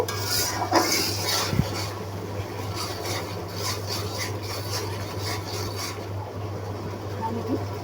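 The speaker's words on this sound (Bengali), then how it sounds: "মশলাটা সুন্দর করে কষানো হচ্ছে" A spoon scrapes and stirs spice paste in a pan for catla fish kalia, with soft, steady rubbing strokes over a constant low hum.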